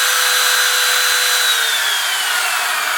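A Makita RT0700 router runs at full speed, a loud, continuous high-pitched motor whine with a faint pitch drift and no voices.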